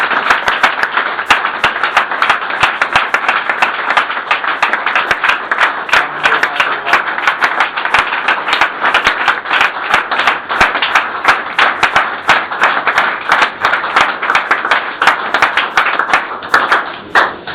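Church congregation clapping together to acclaim the king, a dense, steady stream of loud hand claps continuing throughout without pause.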